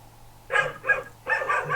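Small dog barking in the background of an online physics lab session, three short yapping bursts coming through another participant's open microphone.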